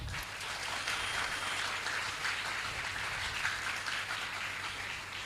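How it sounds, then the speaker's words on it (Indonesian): Audience at an Islamic boarding school Quran memorization graduation ceremony applauding in a hall, a sustained, even roar of many clapping hands over a low steady hum, with no talk. "Beri tepuk tangan."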